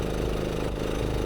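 A faulty racing kart engine runs steadily and loudly up close at a race event, giving a continuous rough mechanical drone with no talking over it.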